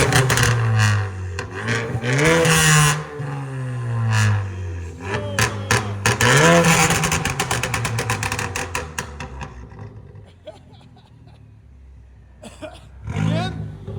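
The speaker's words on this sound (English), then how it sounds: "We're gonna have the customer rev it." Straight-piped 2014 Ford Focus ST turbo engine revved hard by its owner, several loud raspy bursts rising and falling with crackling pops on the lift-off, then a quieter idle before a final short rev.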